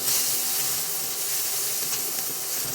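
Sliced red or white onions hitting hot olive oil in a pan, giving a steady, loud hissing sizzle that runs unbroken throughout while Greek moussaka is cooked.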